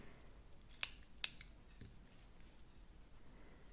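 Two or three quick, crisp snips of scissors cutting cotton yarn for a crochet flower, close up and isolated against a quiet room.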